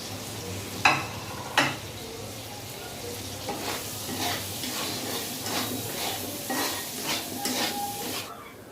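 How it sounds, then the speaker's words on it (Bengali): Sliced onion fries in a pan of hot oil, producing a continuous close sizzle. Two sharp metallic knocks from a utensil on the pan come early, then the sizzle carries on under irregular stirring scrapes. "এবার পেঁয়াজটাকে ভেজে নেব"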